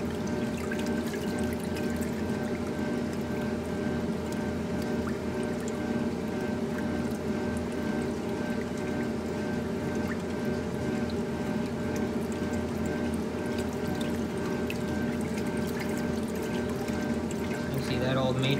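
A Maytag washing machine with a power fin agitator churns a load in water, making a continuous sloshing, gushing wash that stays steady and fairly loud, with a voice faintly underneath.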